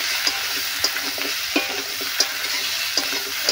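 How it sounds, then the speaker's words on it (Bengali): Ridge gourd and potato pieces stir-fried with spices in a pan, a steady sizzle broken by repeated scraping stirs of the spatula at a regular pace, close up with no talking. "এইভাবে ভালো করে কষতে হবে।"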